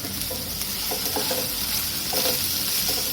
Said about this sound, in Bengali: সব উপকরণগুলো দু মিনিট সতে করে নেবো